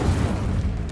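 An Incendio fire spell cast in the video game Hogwarts Legacy: one loud, low, rumbling whoosh of flame that stays steady for about a second.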